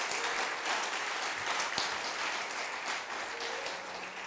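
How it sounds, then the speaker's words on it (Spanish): A church congregation applauds together, with a full, sustained wash of clapping that eases slightly toward the end. Faint tonal sounds sit underneath, and no one speaks over it. "Dale un aplauso a Jesús."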